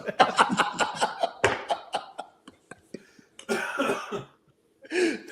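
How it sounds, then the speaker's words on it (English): A burst of laughter dissolving into a few short, close coughs, with a brief pause before another sputtering outburst. "My first laugh cough in the night."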